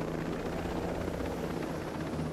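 A helicopter in Ghost Recon Breakpoint gives a steady, loud rotor drone throughout, with a constant low thrum and no voices over it.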